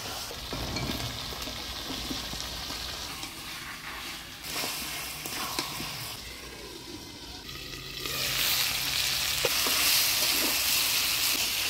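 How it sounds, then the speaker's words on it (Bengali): Mutton with papaya fries in a pan over a clay stove, a strong sizzle with repeated scraping and knocking as it is stirred, growing brighter and louder in the final seconds, with no one speaking. "এখন ভালোভাবে পেঁপে দিয়ে আমি মাংসটা কষিয়ে নিলাম"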